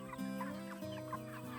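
Cornish Cross broiler chickens on a homestead cluck in a quick, uneven series of soft calls, close and clear, with no talking.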